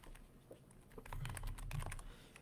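Rapid typing on a computer keyboard, a steady run of close, light key clicks lasting a couple of seconds with no talk over it.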